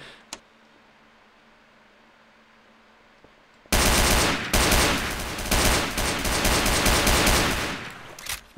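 Gunfire in the video game Garry's Mod DarkRP: after a quiet lull with a single click, loud sustained rapid automatic shooting bursts in and continues for nearly five seconds, close and dense, with no talk.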